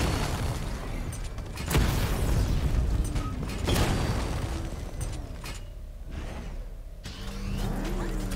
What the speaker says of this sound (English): Ooh, some extra explosions.